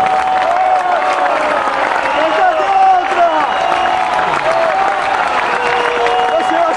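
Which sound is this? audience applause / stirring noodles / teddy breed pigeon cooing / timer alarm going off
audience applause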